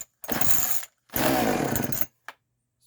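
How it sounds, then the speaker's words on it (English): A Homelite 42cc chainsaw with an 18-inch bar is pull-started: two loud, close rasping pulls, the second longer, then a brief third burst, with quiet gaps between. "Starts to start, so you turn the choke off, pull it again."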